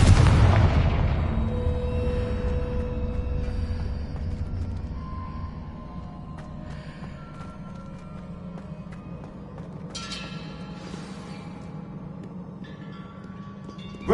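The Confringo blasting spell goes off in Hogwarts Legacy as one loud, close explosion. A heavy boom is followed by a long rumbling decay with scattered debris crackles fading over several seconds.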